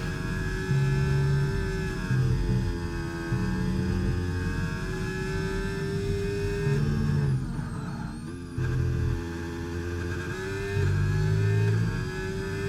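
Racing car engine held at full throttle in seventh gear during an online league race at Qatar or Imola in a racing video game, a loud steady high-pitched drone with a brief dip midway, no talk.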